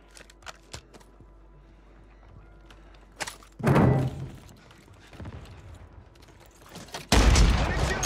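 Call of Duty Warzone combat on Rebirth Island: scattered gunshots and thumps lead into two loud, close grenade blasts, each a heavy boom with a rumbling tail.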